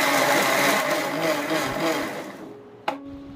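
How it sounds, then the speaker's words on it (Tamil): A mixer grinder jar whirs loudly and steadily as it blends tomato chutney, then cuts off near the end with a short clunk followed by a faint hum. "எல்லாத்தையுமே மிக்சி ஜாரில் சேர்த்துட்டு அரைச்சி எடுத்துக்கிட்டோம்னா தக்காளி சட்னியுமே ரெடி ஆயிரும்."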